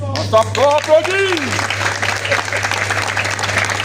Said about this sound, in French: Applaudis.